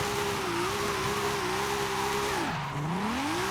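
A Toyota Trueno AE86 with a swapped 2JZ engine drones at steady high revs in Forza Horizon 5, then dips and climbs again with a shift, under a constant wash of road and tire noise.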